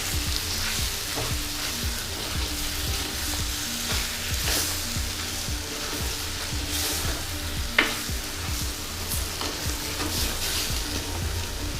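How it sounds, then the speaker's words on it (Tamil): Cut potatoes go into a Sri Lankan chicken curry frying in a pot, giving a steady loud sizzle broken by scrapes and clinks of stirring and one sharp knock, close up with no talk. "இப்போ வெட்டி வச்ச கிழங்க போடுங்க."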